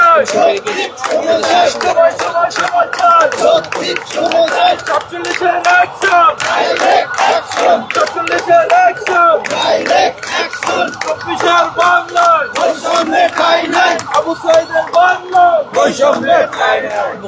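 BCS exam candidates chant slogans in rhythmic unison near Shahbag, Dhaka, at a police barricade. A loud, close crowd keeps up a steady beat of shouted calls and responses throughout.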